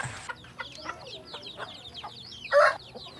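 Chickens crossbred with Rhode Island Red cluck softly in a run of short repeated calls, fairly near, with one louder squawk near the end and no talk.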